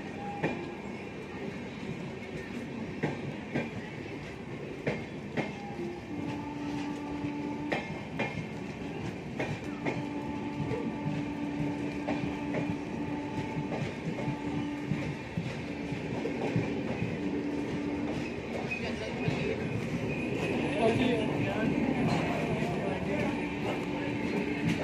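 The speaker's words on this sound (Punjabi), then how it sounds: "ਟ੍ਰੇਨ ਡਿਪਾਰਟ ਕਰ ਚੁੱਕੀ ਹੈ" Old Delhi–Pathankot Superfast Express running on its line after departing, a steady rumble with rhythmic clickety-clack of wheels over rail joints, close and continuous, with people talking faintly in the carriage.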